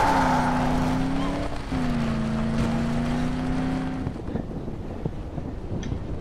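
Car in the video game Dead Island driving into water: a loud, steady engine drone with a rising and falling pitch, wind-like noise over it, easing off near the end.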